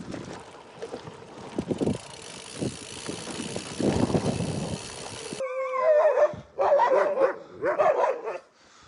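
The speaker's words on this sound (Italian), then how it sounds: "Costantemente interrotto da sti benedetti cani randagi" Stray dogs bark on a windy desert trail in Jordan. Wind noise comes first, then several loud, close barks arrive in uneven bursts.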